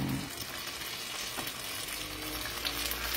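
Banana turon fries in hot oil, a steady crackling sizzle that runs evenly throughout at close range, with no talking over it.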